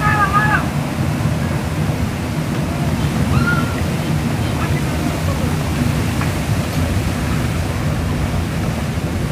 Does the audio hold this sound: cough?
no